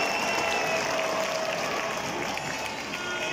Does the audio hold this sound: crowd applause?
yes